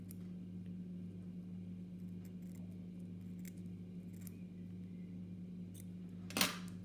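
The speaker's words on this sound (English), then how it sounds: "then trim away the stalks" Small scissors trimming CDC feather stalks at a fly-tying bench make a single sharp close snip near the end, after faint quiet handling, over a steady low electrical hum.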